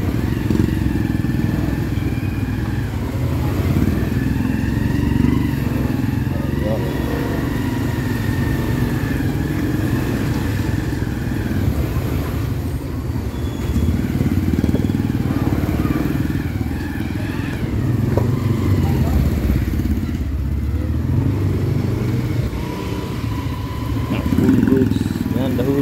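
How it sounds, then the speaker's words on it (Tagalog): Busy street traffic with motorcycle engines passing and cars rumbling, a steady dense roar throughout with occasional clatter and thuds, while a voice talks over it. "Traffic."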